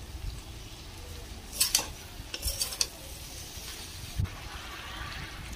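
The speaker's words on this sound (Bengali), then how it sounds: "কাঁঠালগুলো কিছুক্ষণ ভালো করে নাড়াচাড়া করে ভেজে নিলাম, যাতে মশলাটার সাথে ভালো করে মিশে যায়।" Jackfruit pieces fry in a spice mix in a pan, with faint sizzling under a few sharp scrapes and clinks of a spoon stirring against the metal.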